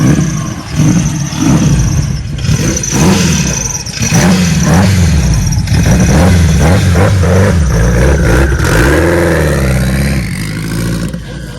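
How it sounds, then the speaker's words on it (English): A K-swapped Toyota MR2 of about 800 hp roaring at high revs as its tires spin under power, a loud close engine blare with scrabbling tire noise, sustained for several seconds. "he's blowing the tires off right there"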